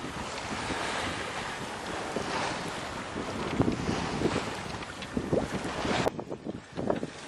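Sailboat surfing down Atlantic waves on an ocean crossing, with strong wind buffeting the microphone and a continuous rush of water and surf along the hull, loud and close, with surging bursts as the boat runs.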